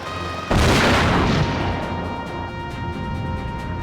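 A loud boom of mech weaponry fire in Front Mission 4 erupts suddenly, then a sustained rumbling barrage of explosions slowly fades under a steady game soundtrack.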